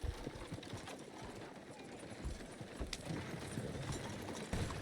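Horse hooves clip-clop at a steady trot in the video game Red Dead Redemption 2, quiet and even, with soft game ambience beneath.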